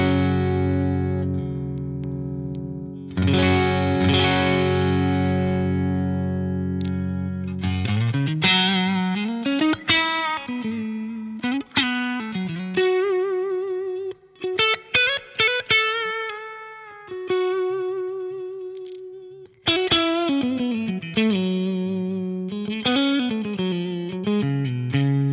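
Electric guitar played through a 29 Pedals OAMP amp pedal on its bright setting, loud and close, with sustained chords giving way to picked melodic phrases full of harmonic overtones and slight grit.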